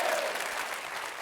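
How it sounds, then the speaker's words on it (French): Live studio audience applauding by hand on a French television game show, a dense steady clatter of many clapping hands that holds even and fairly loud throughout, with no voices. "les applaudissements dans notre émission sont faits à la main et en direct par notre public"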